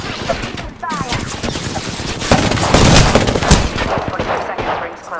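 Rapid bursts of automatic gunfire in a battle royale shooter, several loud volleys building toward the middle, with brief gaps between bursts.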